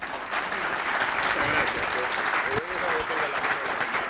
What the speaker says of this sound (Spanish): Les quiero pedir un fuerte aplauso